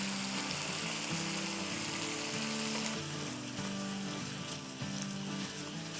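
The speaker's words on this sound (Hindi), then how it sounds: "चलें हम मसाला भूनते हैं जब तक।" Masala with tomato puree sizzles steadily in a pan for chicken biryani, a continuous dense frying hiss with occasional stirring scrapes and no talk.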